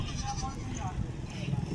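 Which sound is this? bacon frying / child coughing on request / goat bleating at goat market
goat bleating at goat market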